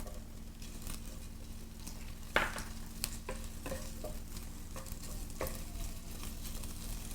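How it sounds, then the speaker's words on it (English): Bacon, garlic and sausages fry steadily in a pan, a continuous close sizzle with occasional stirring scrapes and a sharper clatter partway through; no one speaks. "stir the bacon and garlic, so you will see the bacon and garlic browning"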